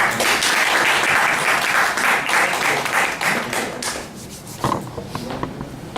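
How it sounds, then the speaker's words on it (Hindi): An audience bursts into loud applause welcoming a company CMD to the stage at a talk, dense clapping that holds strong before thinning into scattered claps near the end. "कार्तिकेय हरियाणी जी, तो हम लोग उनका जोरदार ताली स्वागत करेंगे"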